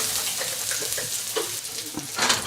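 Chopped ginger and garlic sizzle in hot cooking oil for a chow mein, a steady close hiss with a few soft stirring knocks and a louder burst near the end.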